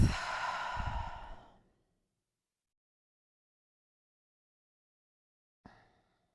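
A long audible exhale close to the microphone during a mobility class, a breathy sigh lasting over a second, then silence and a brief soft breath near the end.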